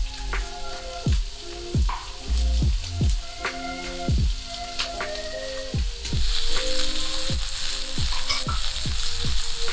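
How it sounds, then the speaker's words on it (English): Chicken crackles and sizzles in hot olive oil, with a steady hiss and repeated clanking stirs, loud and close throughout. "when the chicken starts frying"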